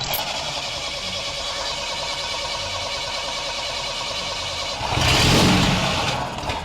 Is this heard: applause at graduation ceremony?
no